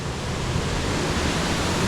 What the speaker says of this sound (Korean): 폭포 소리 정말 듣기 좋습니다